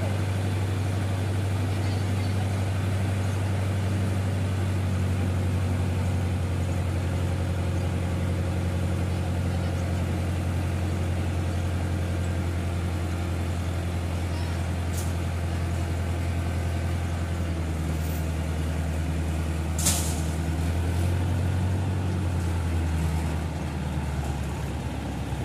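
A crane's heavy engine drones steadily and loudly throughout, a constant low rumble, as it works to lift an overturned, very heavy truck after a road accident on the Amravati–Nagpur road near Sarwadi Devwadi village.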